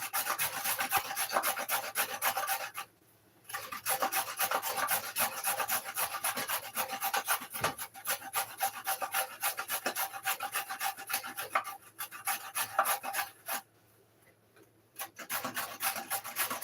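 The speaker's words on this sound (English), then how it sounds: "It's just going to be a lot of grating and mixing" A carrot being grated by hand in a home kitchen, with steady rasping strokes that run almost without pause and stop briefly a few times, close and fairly loud, with no talk.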